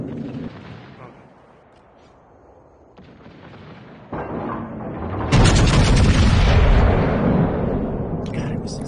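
Gunfire in a competitive video game match, loud bursts and booms that build into sustained heavy firing in the second half, with a player talking over the action.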